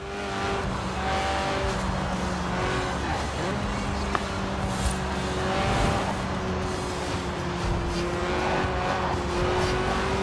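A sports car's 1.8-litre, 190-horsepower engine revs high toward 8,000 RPM in Forza Horizon 4 with a sustained droning pitch, loud and continuous, with faint tire noise underneath.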